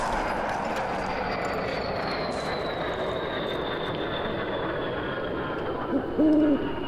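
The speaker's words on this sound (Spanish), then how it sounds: "La primera vez que escucho el búho" A low, steady engine drone hums throughout, then a single short owl hoot sounds near the end, fairly distinct above the background, in the video game Arma 3.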